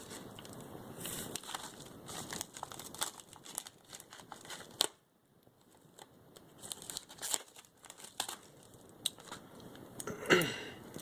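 A small sealed mail package is cut and torn open up close: scattered crinkling, rustling and tearing of packaging in short bursts, with a brief pause and a sharper crackle near the end.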